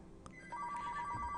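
A phone rings briefly, a steady electronic tone starting halfway through over faint background game sound, with no talk.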